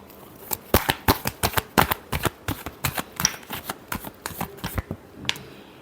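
Tarot cards being shuffled in a steady run of crisp riffling slaps and flicks, close and distinct, about twenty quick strokes with no talking.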